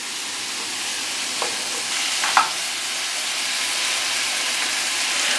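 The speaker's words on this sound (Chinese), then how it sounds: "加入酱油， 一些些的米酒， 我用的是葡萄酒了，放入洋葱， 然后鸡块" Onion and chicken pieces fry in a pan with soy sauce and a splash of wine, giving a loud, steady hiss and sizzle with a couple of brief crackling pops.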